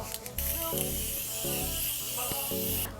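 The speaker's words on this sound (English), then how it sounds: "I'm gonna set one more time with the Morphe Continuous Setting Spray" A steady hiss of Morphe Continuous Setting Spray misting onto a face under soft background music, lasting a couple of seconds at close range.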